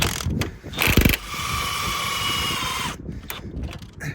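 A pneumatic impact wrench hammers on the anti roll bar link nut of a Ford Transit Mk7, a loud close burst of rattling blows, then a sustained whirring run of about a second and a half, followed by short clattering stops.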